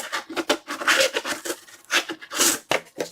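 A Cold Steel GI Tanto knife, hollow-ground with a traction-coated blade, slicing through cardboard: steady rasping, scraping drags with short pauses between strokes, close and loud, no speech.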